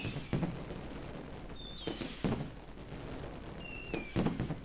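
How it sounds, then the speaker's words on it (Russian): New Year fireworks salute bursting outdoors, with several sharp loud cracks and booms at irregular intervals over a steady crackling background, plus a couple of rising whistling rockets. "Этот салют для вас, друзья."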